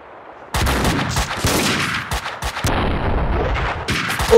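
Sniper rifle gunfire in the PC game Max Payne 2: The Fall of Max Payne, loud repeated sharp shots with booming tails in quick succession over a few seconds, no speech.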